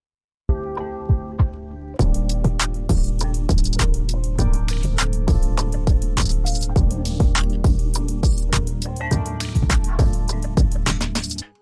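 Electronic dance mix in Ableton with a feedback delay effect, steady beat and repeating echoing hits that smear into trailing repeats, loud and continuous after a brief sparse opening.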